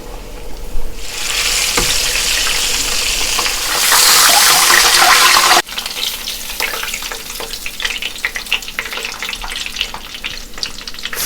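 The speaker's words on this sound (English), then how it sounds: "Frying for 12 minutes." A Cornish hen fries in oil heated to 350 degrees over medium-high heat, a loud, dense sizzle that surges brighter partway through and then settles into steady crackling and popping.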